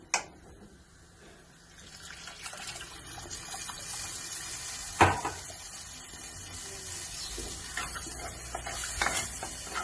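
Tamarind water is poured into a pan of puli inji, a sweet and spicy ginger curry seasoned with turmeric and salt. A sharp splash and gush mid-way rise over steady close sizzling and stirring, with no talking.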